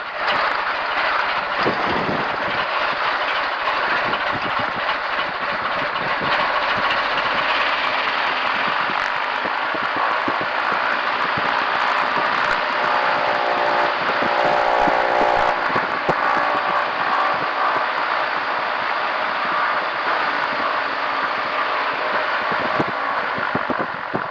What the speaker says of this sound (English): we'll sit here and do our engine checks.